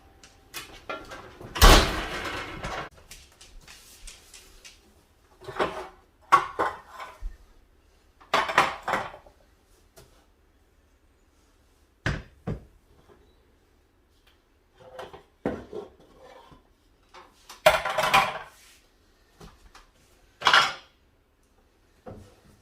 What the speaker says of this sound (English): But this copper crisper tray, we can take this out.